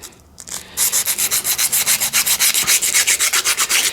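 Hand sanding with 150 grit sandpaper on a part for a Ford 800 tractor carburetor, a brief scrape and pause followed by rapid rhythmic back-and-forth rasping strokes, about five per second, close and loud, with no voices.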